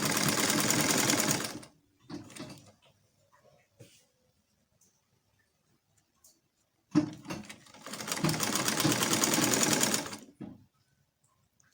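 A sewing machine stitches a basic bodice seam in two loud runs of about two and a half seconds each, split by a quiet gap with a few soft handling noises and a brief murmur.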